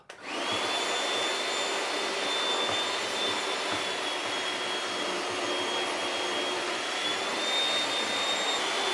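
A new RIDGID shop vacuum runs steadily and loudly from start to finish, a constant high whine over a broad rushing roar.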